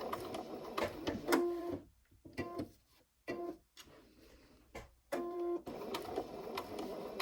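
Sewing machine backstitching on washable fabric wipes: short bursts of rapid mechanical stitching broken by silent pauses, with faint handling noise, close and moderately quiet.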